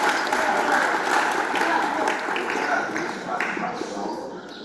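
Students in a state school classroom clap together during a visiting slavery museum presentation, a full, busy round of applause that tapers slightly toward the end.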